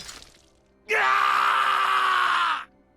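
A man screams in the video game Hakuoki as he is cut with a blade: one loud, sustained, strained cry lasting nearly two seconds that cuts off abruptly after a quiet lead-in.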